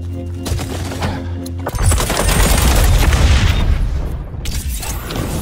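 Grenade blast and sustained gunfire in the shooter game XDefiant during a capture-zone match, a loud deep boom rolling into dense, continuous rattling shots that stay close and heavy to the end.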